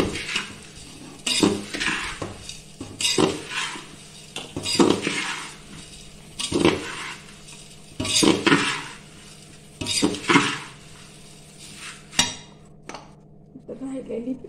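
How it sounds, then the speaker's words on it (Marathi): Powdered sugar being stirred into fried thin poha chiwda in a pan, with repeated scraping and metallic clinks of a spoon against the pan in uneven bursts, close by and moderately loud, with no talk. "पहिला थोडी घालायची, त्याच्यानंतर हलवून घ्यायचं."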